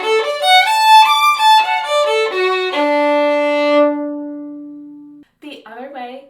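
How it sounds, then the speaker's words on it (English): A violin bowed arco plays a short phrase of sustained notes ending on a long held tone, close and clear, followed by a moment of silence and then a person speaking. "One is by using our bow, which we call bowing, or arco."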